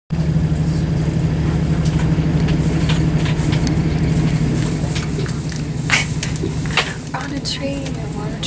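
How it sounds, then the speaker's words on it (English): Steady low rumble of a moving train bound for Chiang Mai, heard from inside a carriage, with a constant hum and occasional clatter and rattles over the noise. "I'm on a train to Chiang Mai"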